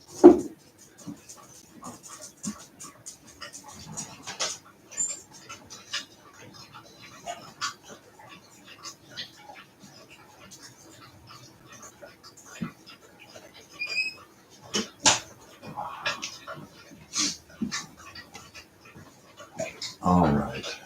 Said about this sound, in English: while my dogs finish drinking all the water in the world here